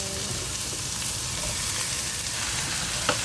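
Bitter gourd (ampalaya) sizzles and fries steadily in a pan, a close, continuous crackling hiss with a faint stirring clink near the end.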